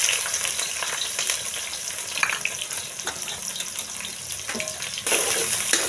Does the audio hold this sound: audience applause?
no